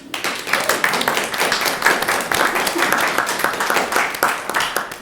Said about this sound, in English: I think they should get a round of applause.